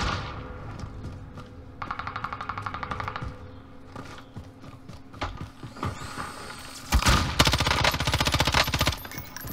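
SMG fire rattles in a first-person shooter match, with rapid bursts of automatic shots that start moderate and swell into a louder, denser close burst near the end, alongside game mechanical noises and no talk.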